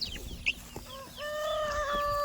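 Chickens in a backyard bird pen cluck in short, close calls, followed by a drawn-out tonal call rising over faint background noise.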